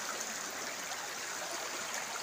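A river stream flows steadily near someone washing clothes on its bank, a constant close rush of water with no talking.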